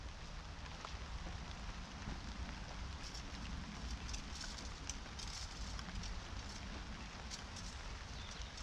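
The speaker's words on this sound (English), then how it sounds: "Bloody rain." Rain falls steadily on a vegetable garden after raking, a soft continuous patter with light scattered drop hits, fairly quiet and unbroken, with no voices.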